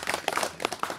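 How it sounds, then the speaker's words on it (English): An audience at a community gathering against domestic violence claps in a brief, dense burst of overlapping hand claps, close and fairly loud. "Let's clap for Caritas."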